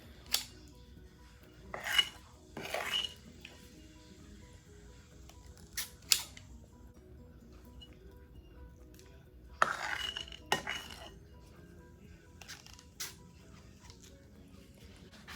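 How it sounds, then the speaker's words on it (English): Muffin batter is scooped with an ice cream scoop into paper muffin liners for fresh blueberry muffins, a quiet scene of scattered metallic clicks and scrapes of the scoop against the bowl and pan, sparse and close. "I'm going to scoop, get a dollop of the batter like so, and scoop them into the muffin liner."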